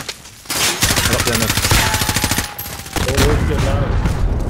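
Rapid automatic gunfire from a video game, likely the Cyber Attack mode, rattles in loud sustained bursts with a brief pause midway, while players talk and laugh over it.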